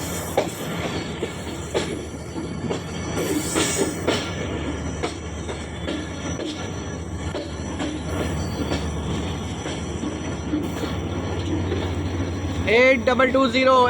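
The Hazara Express passes, led by a HEMU 30 locomotive. A heavy, continuous rumble of rolling wheels and clattering cars is mixed with voices, and a brief high squeal or horn-like tone sounds near the end.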